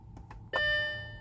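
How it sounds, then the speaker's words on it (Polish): A single gong chime from an Audi A4 B6 1.8T instrument cluster during its self-test: a clear electronic tone strikes after a few faint clicks and rings out, slowly fading. "Gong."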